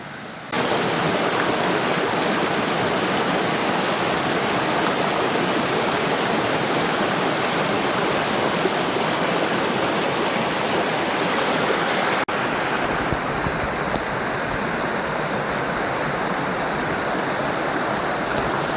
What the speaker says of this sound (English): I'm going to show you the waterfall that goes out to it.